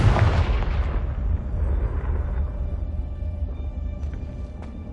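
Confringo fire-blast spell going off in Hogwarts Legacy, a loud booming burst at the start that rolls into a long rumbling decay, with faint crackles trailing at the end.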